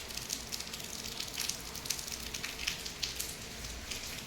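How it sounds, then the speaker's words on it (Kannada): Heavy rain heard from indoors, a steady hiss with scattered crackling drops and patters, fairly faint and continuous. "ಬಟ್ ತುಂಬ ಅಂದರೆ ತುಂಬಾ ಮಳೆ ಆಗ್ತಿದೆ"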